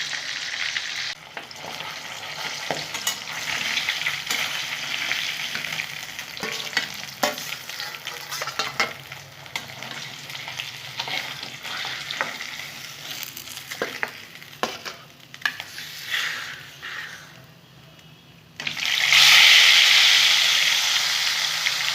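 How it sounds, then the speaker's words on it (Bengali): Pieces of aar fish frying in hot oil give a steady, close sizzle with scattered stirring clicks, briefly easing off before a louder hissing burst near the end. "এইভাবে আমি মাছগুলো লাল লাল করে ভেজে নেবো বন্ধুরা।"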